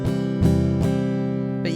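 A Fender Telecaster switched fully to its acoustic pickup sounds a handful of quick strummed chords in an even rhythm, close and clear, without any voice.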